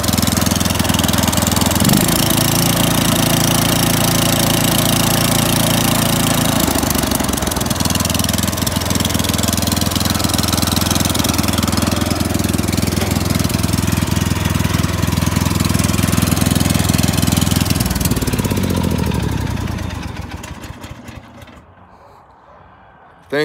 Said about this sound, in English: That's the sound of a Kohler.